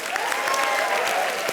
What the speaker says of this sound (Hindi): तालियां विवेक के लिए